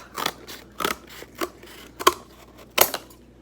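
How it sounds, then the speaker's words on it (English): Scissors snip through cardboard while cutting a cone shape, giving about six separate crisp crunching cuts spaced roughly half a second apart, close and fairly loud, with no talking. "now I'm going to cut kind of like a cone"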